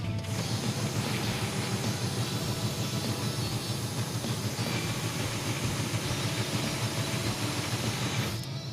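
A car engine idles steadily right after its ignition timing was advanced, giving a loud, continuous close rumble with an even low throb that holds the whole time until it fades slightly at the very end.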